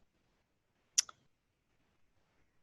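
A single crisp computer mouse click, followed by a fainter second click, sounds close and isolated against near silence.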